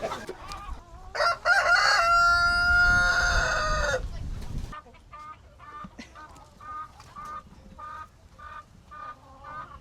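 A rooster crows loudly nearby, a long drawn-out call, followed by repeated clucking from several chickens on a farm on Grand Cayman.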